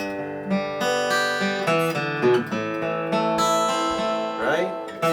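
Acoustic guitar fingerpicking a chord pattern, steady arpeggiated notes ringing close and clear with no voice over them.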